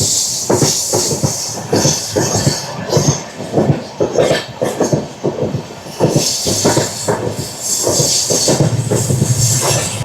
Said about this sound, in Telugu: మనకి ఆపోజిట్లో 12660 రాబోతుంది. Gurudev super fast express Shalimar నుంచి నాగర్కోయిల్ వరకు వెళ్తుంది.